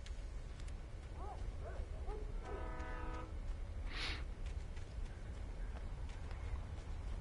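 At a train depot in the video game Alan Wake Remastered, a train horn sounds briefly over a constant loud rumble of rail noise and ambient hiss, with a few faint chirps near the start.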